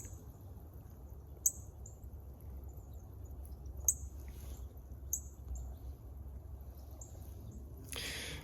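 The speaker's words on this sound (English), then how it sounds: "there's a female cardinal chipping within about 10 feet of me" A female northern cardinal gives a few sharp, metallic chip notes close by, spaced several seconds apart over a steady low background hum, with no voices.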